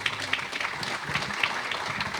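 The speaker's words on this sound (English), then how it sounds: "Let's give them a round of applause." Audience applause at a business readiness summit for major events, a steady wash of clapping from a crowd that carries through the whole moment without a break.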